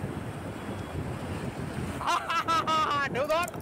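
Steady sea wind and surf roar at Lighthouse beach in Puri, Odisha, filling the background throughout, with voices talking near the microphone in the last second and a half.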